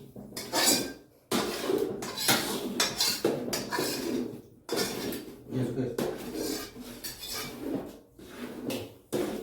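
Metal utensils clatter and scrape against a pan as sugar syrup is poured over mawa for adadiya, loud repeated bursts with brief pauses between them.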